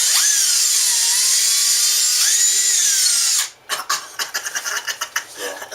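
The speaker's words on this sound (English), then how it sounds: "So now, what we're going to do is we're going to go ahead and drill through here." A cordless drill whines loudly and steadily, its pitch dipping and rising as it bores through, then stops abruptly and gives way to a few short clattering knocks and handling sounds.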